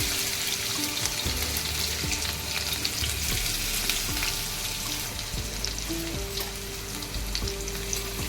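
Chopped onion sizzles steadily in hot oil in a pan, a continuous close frying hiss with scattered spatter and occasional clinks of stirring, no voices.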